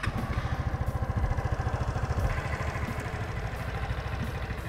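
A small Suzuki Swish scooter engine idles close by with a steady, fast putter that stays even throughout; engine and muffler are quiet.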